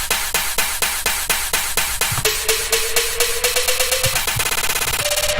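A layered snare sample cut from a pitched-up drum loop, played dry without effects. Sharp, fast repeated hits go by in a loud, steady rhythm, and a sustained tone slides in partway through.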